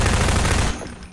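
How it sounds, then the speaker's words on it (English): Rapid automatic machine-gun fire from Half-Life 2, a dense loud burst lasting most of the moment before cutting off abruptly into quieter game ambience. "Because I have a machine gun."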